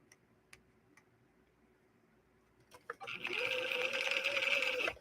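A few sharp, isolated clicks from a sewing machine's stitch selector dial being turned toward zigzag, then the machine whirs loudly at close range for about two seconds before stopping.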